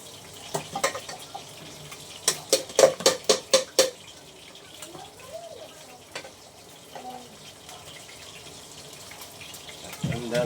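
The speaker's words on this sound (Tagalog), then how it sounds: "indos muna tayo ng mga pinggan dito sa lababo" Dishes being washed at a cluttered kitchen sink with a running tap: a quick run of clinking plate and utensil knocks, then softer water splashing and scattered clatter, with faint background noise from cooking nearby.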